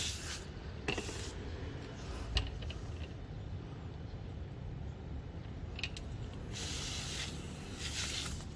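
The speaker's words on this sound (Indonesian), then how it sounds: "belakangnya harus disemprot juga dari belakang nih ya" A hand sprayer mists the back of a potted Dixon grape plant in short hissing bursts of spray, faint and close, with quiet gaps and light handling noises in between.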